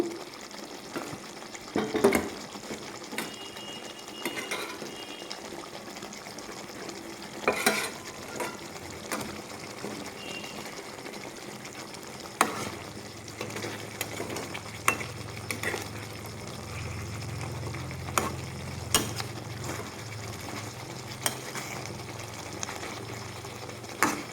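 Eggplant pieces frying in a cooked-down masala for a vegetarian Bengali dish, with repeated scraping stir strokes against the pan over a soft continuous sizzle, no voices.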